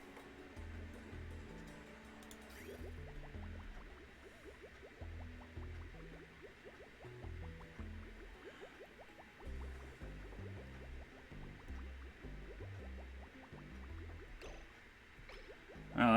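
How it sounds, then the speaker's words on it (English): Polluted water sloshes through a pipeline in the colony-building game Oxygen Not Included, a steady low gurgling and bubbling flow with scattered soft pops and clicks, fairly quiet and continuous with no talking. "that's a good chunk of polluted water coming down the pipeline there"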